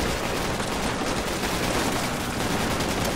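Dense, continuous gunfire in the Project Reality military video game roars loud and unbroken, overlapping bursts merging into a sustained fusillade with no talking.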